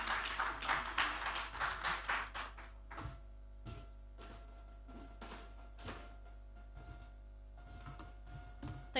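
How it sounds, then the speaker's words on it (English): Faint audience applause at a business forum, with dense clapping in the first few seconds that thins out into scattered claps and room noise. "a round of applause for my sister as she comes"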